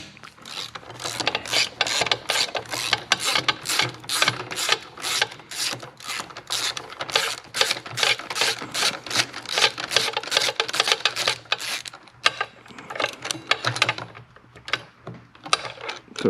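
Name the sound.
socket wrench ratcheting out starter bolt on Harley-Davidson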